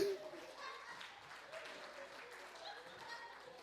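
A church congregation claps together in a sustained, steady round of applause that fills the room, with a voice speaking faintly beneath it.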